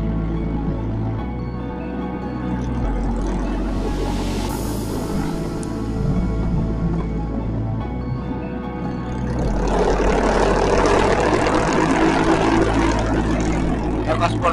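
Motorcycle engine drones continuously while riding on a road between rice fields, a dense steady roar with rushing wind, growing louder and rougher near the end; no talk.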